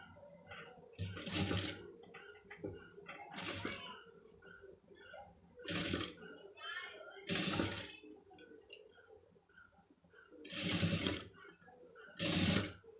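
Sewing machine stitching a lace design, five or six short fast whirring runs of stitching separated by pauses, close by, with someone speaking between them.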